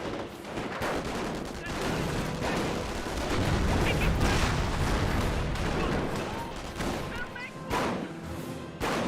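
Rifle gunfire in a Company of Heroes battle: dense, overlapping shots and booms from a squad firing amid wider combat, loud and continuous, with a voice talking over the fighting.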